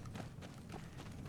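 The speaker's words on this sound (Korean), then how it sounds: "제 앞에 발소리" Footsteps of a character running in the Apex Legends battle royale shooter, a steady muffled patter of quick steps close by under dense game noise, with no speech over them.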